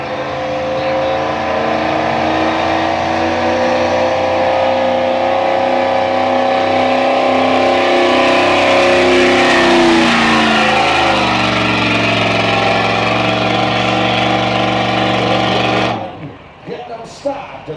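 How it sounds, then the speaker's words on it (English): A 1999 Chevrolet 2500 hot stock 4x4 pickup at an evening truck pull in Melbourne, Ontario, its engine roaring loud and sustained, pitch rising and then falling, before cutting off abruptly near the end. "The first truck class of the evening, the hot stock 4x4 truck class."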